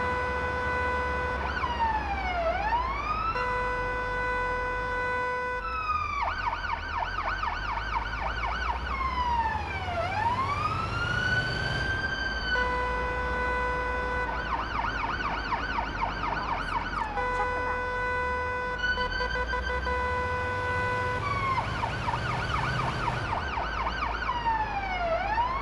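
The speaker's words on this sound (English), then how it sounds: "So I'd love to cut my sirens here and just keep the lights on." Ambulance siren in an ambulance driving video game, a loud continuous electronic wail cycling between long rising-and-falling sweeps and steady held tones, with a low engine rumble climbing and dropping underneath.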